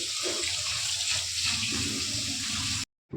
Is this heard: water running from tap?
yes